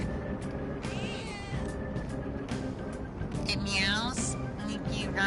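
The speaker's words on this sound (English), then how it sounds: "if you rub the touchpad, or you push the button, it meows." Meows from a cat in the video game Persona 5 Royal, two or three rising and falling cries, while a person talks over them throughout.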